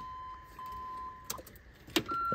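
A key turns in the ignition of a Land Rover Discovery, a few soft metallic clicks and a brief key jingle, followed by a faint electronic chime in a quiet cabin.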